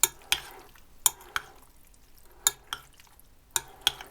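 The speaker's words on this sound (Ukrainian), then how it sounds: "додати майонез, перемішати" A spoon stirs a salad dressed with mayonnaise, making soft, wet scraping strokes that come in a few separate bursts with quiet gaps between them, close and fairly faint.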